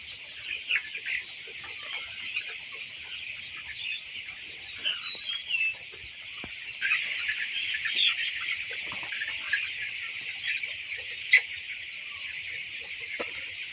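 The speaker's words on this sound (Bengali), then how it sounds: "কালার বাট মুরগি পালতে খুবই সহজ," Colour bat chickens on a farm cluck in scattered, fairly soft calls, some nearer and louder, over a steady high background drone and no speech.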